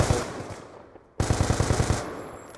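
Automatic gunfire in Call of Duty: Black Ops 2 during a 1v1 match: a short burst, a brief lull, then a loud, rapid run of close shots fired in steady rhythm.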